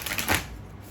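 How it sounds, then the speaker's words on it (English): A deck of tarot cards gets one quick shuffle, a brief papery riffle burst up close with nobody talking. "Let's do one more shuffle."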